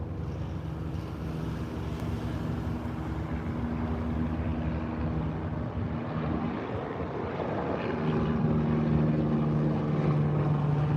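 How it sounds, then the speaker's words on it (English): A steady low helicopter rotor drone hums throughout over Chicago, growing slightly louder toward the end, with no talking. "I hear a helicopter."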